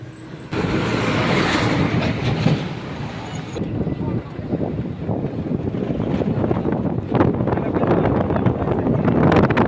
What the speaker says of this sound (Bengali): মুখ দেখতে পাওয়া যায় যে এই মুহূর্তে ট্রেনটি চলে গেল।